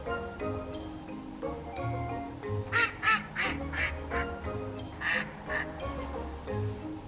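Baby ducks quack in a series of short, bright calls, several in quick succession near the middle and again later, over a steady low background hum outdoors.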